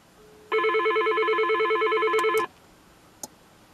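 An electronic SIP phone ring trills continuously for about two seconds, close and clear, followed by a couple of faint clicks.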